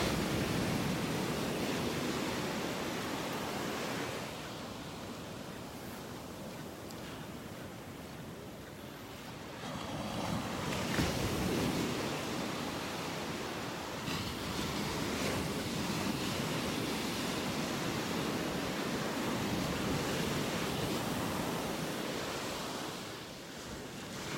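Ocean surf washes steadily onto a beach in North Naples, Florida, a continuous broadband roar that swells and eases with each breaking wave, with some wind rumble on the microphone and no voices.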